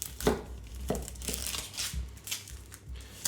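Onions being chopped by hand for a tartiflette, a few irregular knife strikes against a cutting board with crunchy, crisp bursts spread over a few seconds, close and moderately loud, no talking.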